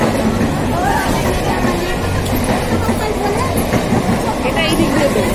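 A train rumbles and clatters steadily past at close range at Konnagar railway platform, with crowd chatter and voices mixed into the constant roar.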